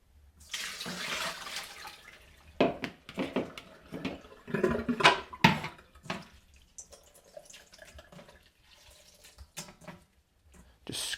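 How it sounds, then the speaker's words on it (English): Blanched wild garlic draining in a sink, with intermittent splashing and trickling water bursts, fairly close and moderately loud, no talking. "then you can drain it again."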